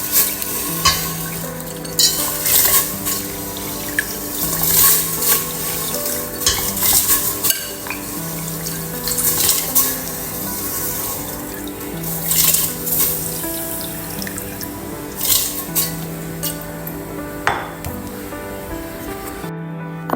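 Water runs from a kitchen sink tap while fish are cleaned, a continuous splashing rush punctuated by frequent clinks and knocks of utensils and dishes, close and fairly loud, with no speech.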